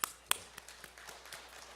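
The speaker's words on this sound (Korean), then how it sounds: "박수 쳐주세요." A church congregation clapping during a Wednesday worship service, starting with two sharp, loud claps followed by quieter, scattered claps further off.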